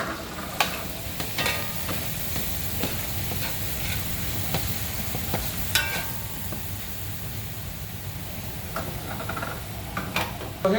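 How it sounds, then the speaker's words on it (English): Garlic and onion frying in olive oil in a pot give a steady close sizzle throughout, broken by scattered clicks and scrapes of a spoon stirring against the pot. "I put some olive oil into the pot. That's the garlic and the onion."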